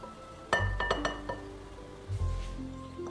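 A spoon stirs melted butter seasoned with salt, turmeric and paprika in a small dish, giving a few sharp clinks against the dish in two short bursts, close and alone without talk.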